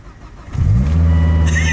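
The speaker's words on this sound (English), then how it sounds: "Let's turn on this T5." A Volvo T5 engine, in a former police car, cranks briefly and catches. It then settles into a loud, steady idle close to the microphone, with a faint high whine near the end.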